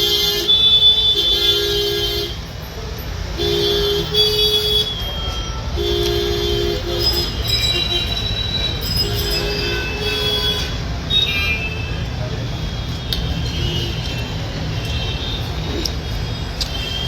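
Vehicle horns honk repeatedly from the road outside a roadside shop, several sustained toots standing out over continuous traffic rumble, fairly close and loud.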